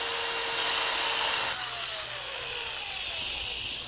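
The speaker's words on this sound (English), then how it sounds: "Flexible discs like this, designed for sanding bowls on the lathe, work great on the bowl interior." Continuous abrasive rubbing hiss of a flexible sanding disc on a wooden bowl interior, steady and close, with a faint high whine from the spinning lathe beneath.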